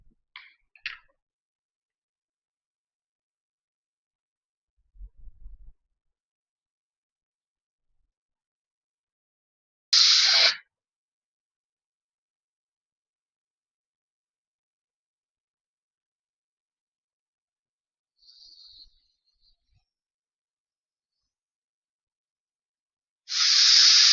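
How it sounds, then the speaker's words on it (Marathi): A pressure cooker cooking rice releases short, forceful bursts of steam hiss separated by long silences, with a faint brief tone and small clicks in between. "2 शिट्या झालेल्या आहे आपल्या"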